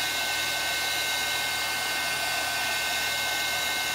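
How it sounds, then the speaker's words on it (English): Heat tool drying and heat-setting wet ink on a handmade card, a steady close whooshing blower roar held without a break. "So I'm just going to heat set this"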